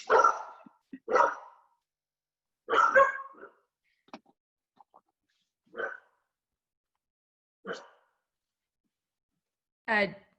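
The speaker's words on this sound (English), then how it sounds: "I think my dogs go crazy in the background." Dogs barking in bursts, several sharp barks spaced irregularly over about ten seconds, moderately loud and fairly close, with no talk over them.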